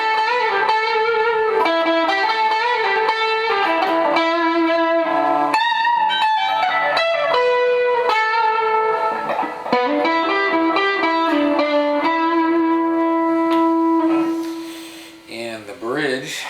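An electric guitar on its middle gold foil clone pickup, in a Bobkat, plays a melodic phrase of sustained, slightly effected notes, clear and up close, fading at the end.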